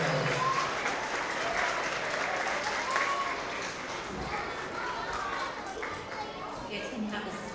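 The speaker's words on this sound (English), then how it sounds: "another round of applause for all of our TK and kindergarten creative problem solvers" An elementary school award assembly audience of families and children gives sustained, steady applause, a dense wash of clapping at moderate distance with faint voices mixed in.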